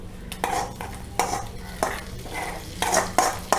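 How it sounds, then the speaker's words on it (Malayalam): Mustard seeds, grated coconut and curry leaves frying in oil for erissery, an Onam sadya dish; a spoon stirs and scrapes the pan in repeated strokes over a soft sizzle, close and moderately loud, with no talking. "കടുക് പൊട്ടിക്കഴിയുമ്പോൾ നമ്മളൊരു കാൽ കപ്പ് തേങ്ങ ചേർക്കുകയാണ് കേട്ടോ രണ്ട് കരിയേപ്പില ഇട്ടിട്ടുണ്ട് നന്നായിട്ടൊന്ന് മൂത്ത് വരണം"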